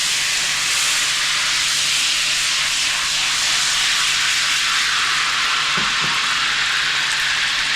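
Lemon juice and lemon zest hiss and sizzle steadily in a hot pan, a loud continuous crackle that holds throughout with no voices.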